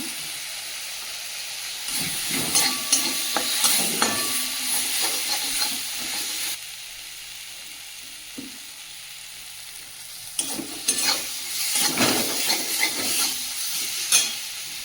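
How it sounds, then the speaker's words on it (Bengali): Chopped tomato fries with turmeric powder in a pan, a loud, close sizzle and hiss broken by stirring scrapes and pauses, with no talk. "টমেটোটা ভাজা ভাজা হয়ে গেছে"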